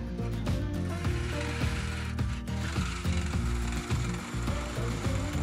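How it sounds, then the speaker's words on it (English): A 6mm parting tool cuts the foot and tenon of a cherry wood bowl spinning on a lathe at about 500 RPM, giving a steady, loud whirring drone with a humming motor tone and rough scraping chatter throughout. "I'm using a 6mm parting tool to make the foot and establish the new tenon."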